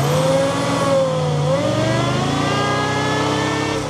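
A Ford Raptor R truck with a Whipple-supercharged V8 accelerates hard, its engine note rising in a loud, close, continuous scream with supercharger whine.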